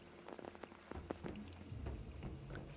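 Rain falls in the video game Apsulov: End of Gods, a faint patter of drops on a surface with scattered sharper ticks.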